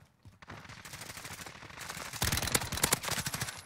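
Bursts of gunfire in Call of Duty Warzone with an Uzi loadout, fast overlapping shots that build in loudness, sharper cracks mid-way, set over a busy game background.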